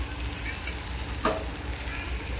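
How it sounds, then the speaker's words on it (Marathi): Corn kernels roast in a pan with a continuous close sizzle and faint crackle, plus one brief scrape or pop midway, and no voice over it. "भाजायला लागलेलं आहे आता ते"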